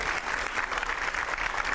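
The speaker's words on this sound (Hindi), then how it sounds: "जोरदार तालियों से स्वागत करिए" An indoor audience at a political event gives dense, sustained applause, a continuous close wash of clapping welcoming a former chief minister to the stage.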